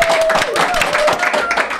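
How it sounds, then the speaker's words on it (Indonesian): A studio audience at a television talk show claps briefly in a quick burst of hand claps, while a voice carries through over the applause. "tepuk tangan teman-teman."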